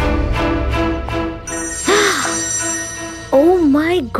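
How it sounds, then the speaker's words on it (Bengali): A telephone rings in repeated trilling bursts, loud and close, while people talk over and between the rings. "কার ফোন বাজছে?"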